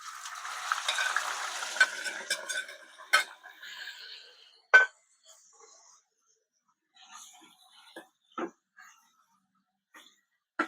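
Chicken dropped into hot oil and stirred in a pan: a loud, dense sizzle for the first few seconds, then thinning to scattered utensil clinks and scrapes against quieter gaps.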